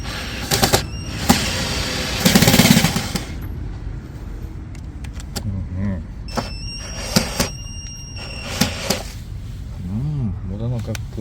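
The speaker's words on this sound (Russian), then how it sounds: "Здесь нет сил закрутить от руки, поэтому будем немного прокручивать с помощью шуруповерта." A cordless screwdriver drives stainless self-tapping screws into wheel arch liners on a Niva Urban. Several short, loud bursts of whirring and ratcheting are interspersed with clanks and a person talking nearby.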